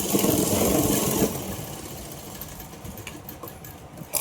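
Sewing machine stitching the leg of a Patiala pant, running fast and loud for about a second, then fading into softer intermittent whirring.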